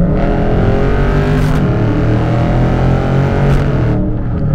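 A Dodge Charger Scatpack accelerates hard, its loud, steady engine roar building close by, with two brief surges where it shifts gears.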